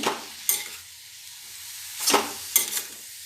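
A filling of grated coconut and sugarcane jaggery is stirred in a wok for pitha, with three separate scraping strokes over a light, close sizzle and no talking.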